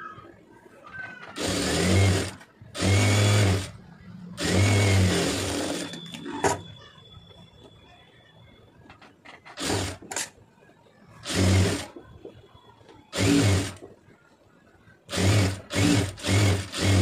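A sewing machine stitches a net-material design blouse in several loud whirring bursts of a few seconds each, separated by quieter gaps in which fabric is handled, with no one talking.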